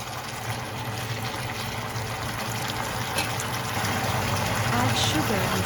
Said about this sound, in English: Add an appropriate amount of water as needed.